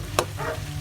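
Brief stir of balbacua broth with a broth cube, a spoon scraping once against the pot over a steady simmering hiss and low background hum.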